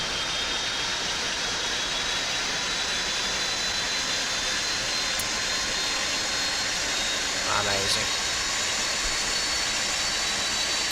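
A Boeing 747-200 jet engine in the X-Plane 12 simulator runs with a continuous loud, hissing roar and a thin high whine, while a person speaks briefly over it.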